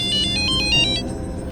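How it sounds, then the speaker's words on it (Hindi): A mobile phone rings with an incoming call, its bright electronic ringtone pulsing in short repeated bursts over a low background hum, with no talking. "लॉटरी वाला क्यों फोन कर रहा है?"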